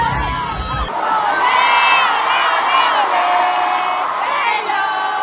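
A large crowd of Taylor Swift fans screams and cheers loudly and continuously, with high shrieks and whoops layered over one another.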